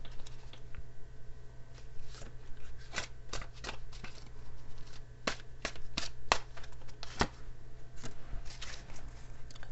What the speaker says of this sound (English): let me pull an extra card here